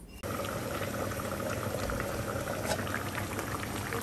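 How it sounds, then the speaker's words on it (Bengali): Katla fish curry with cauliflower and potato simmers covered over medium heat, giving a steady, close bubbling boil that runs continuously at even loudness after a brief quiet start. "এ পর্যায়ে ঢাকনা দিয়ে ঢেকে বেশ কিছু সময় ধরে মিডিয়াম আঁচে রান্না করে নিব"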